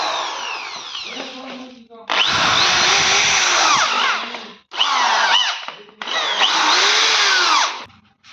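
A DeWalt DWD014 10 mm electric drill runs in loud whirring bursts, starting and stopping several times with brief pauses between runs.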